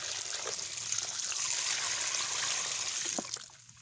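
Mushroom spawn mixture poured into a pot, a continuous watery trickle and hiss for a few seconds, close and moderately quiet, tapering off at the end.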